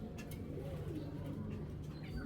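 A male Belgian Janardan racing pigeon from 2019 coos in low, throaty murmurs close by, the soft rolling calls running steadily through a dense background of other birds and faint hubbub.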